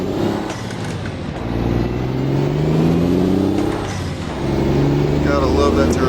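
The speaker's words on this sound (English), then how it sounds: "Gotta love that turbo sound." A Mack semi-truck engine in American Truck Simulator drones and revs upward through rising gear tones with a turbo whine, while a voice talks over it.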